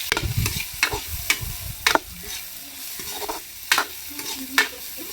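Mustard seeds crackle and sizzle in hot oil while a spoon scrapes and stirs the pan in repeated sharp strokes.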